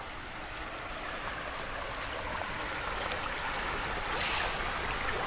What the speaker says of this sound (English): And this is the this is Clarks Creek.